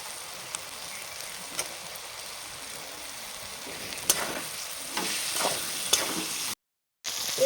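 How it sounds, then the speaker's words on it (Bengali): Chopped tomato frying in a pan with chilli and cumin powder for a beef and vegetable dish, a steady sizzle that grows louder with scattered stirring clicks, briefly cutting out near the end. "এবার দিয়ে দেব টমেটো কুচি।"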